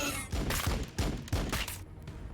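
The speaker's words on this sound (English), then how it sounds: "Take some shots at the Hormigons." A land speeder fires in Warhammer 40K Battlesector, three evenly spaced bursts of gunfire with a rumbling low end, moderately loud over game ambience.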